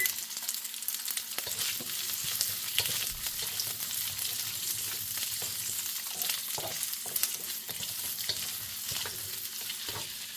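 Bok choy stir-fries with garlic, ginger and onion in a hot pan over medium-high heat, a continuous loud sizzle with frequent clicks and scrapes of tossing throughout, no voices.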